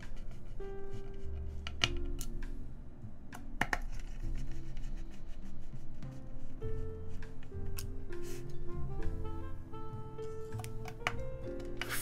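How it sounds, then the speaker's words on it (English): Mechanical keyboard switches without keycaps, on a KBDfans 8X board, click and clack in quick irregular bursts of typing, close and crisp, with bright tapping strikes and faint metallic ringing running through the whole stretch. "you won't be able to hear a lot of the switch noise if it's no keycaps"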